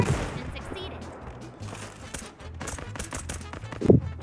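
Gunfire rattles in a shooter video game played with sniper rifles, a few sharp shots popping over a steady background hum, with one louder crack near the end while people talk excitedly.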